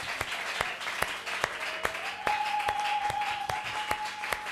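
A church congregation at a Sunday service applauds in steady rhythmic clapping that runs the whole stretch, with a sustained organ or keyboard tone beneath and a faint voice in the room.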